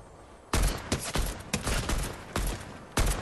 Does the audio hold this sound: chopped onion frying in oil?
no